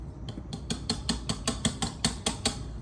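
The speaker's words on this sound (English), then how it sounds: "Continue mixing until your whisk becomes clean and not with clumps" A whisk beating tres leches batter in a bowl, a regular rhythm of bright, close clinks and scrapes as the wire strikes the sides, about a dozen strokes with no talking.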